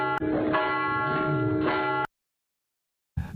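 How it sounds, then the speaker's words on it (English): A bell rung to mark the end of a man's prostate cancer treatment, a loud ringing with a sustained tone for about two seconds before cutting off to silence, then a brief return of sound at the end. "he rang the bell yesterday to wrap up his treatment."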